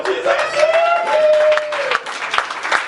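A church congregation claps for Jesus at a deliverance healing service. Steady clapping runs throughout with loud voices and singing-like calls over it.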